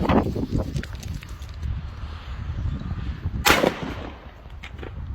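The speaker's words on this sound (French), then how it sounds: "on met le petit pétard dans la boîte à pizza" A small firecracker bursts inside a cardboard pizza box outdoors, one sharp loud bang amid steady background rumble and street noise.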